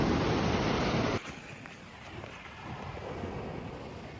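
Wind and waves on a beach: a loud, rough gust of wind buffets the microphone for about a second, then a softer, steady wash of surf continues alone.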